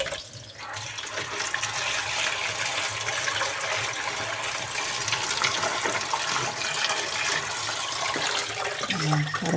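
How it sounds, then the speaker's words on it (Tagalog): Water runs steadily from a tap while something is washed by hand, a continuous splashing flow with shifting intensity and a faint clatter near the end. "Ngayon ay huhugasan na natin to."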